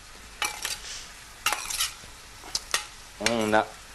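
Peppers and zucchini sauté in a pan, with a quiet sizzle under several distinct stirring scrapes and clinks of a utensil against the pan, spaced irregularly and heard up close.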